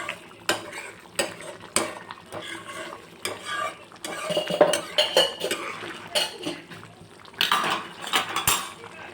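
A spoon stirs potato curry in a pan after lemon juice and sugar are added, producing close metallic scrapes and clinks in an uneven rhythm over light sizzling.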